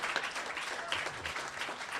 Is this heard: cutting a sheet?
no